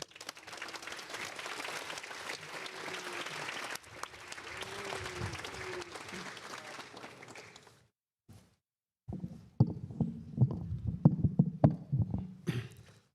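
Audience applause fills an honor society ceremony hall, sustained and moderately loud for about eight seconds. It stops, and a few scattered later claps and handling thumps follow.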